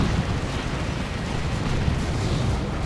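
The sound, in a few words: las cannon fire destroying tanks, Dawn of War 2 video game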